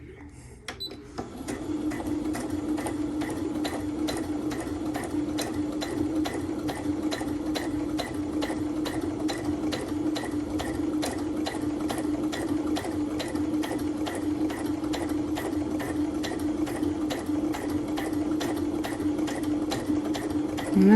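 A sewing machine stitches around the border of a cross stitch bookmark, running at a steady, moderate pace in a continuous mechanical whir with rapid needle ticks, loud and close, after a brief quiet start.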